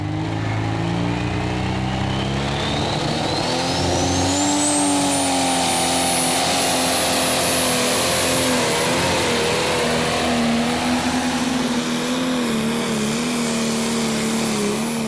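A Valtra tractor engine roars continuously at high load during a Prostock tractor pulling run at Brande, Denmark, its pitch climbing and a whine rising over the first few seconds, then holding loud and steady throughout.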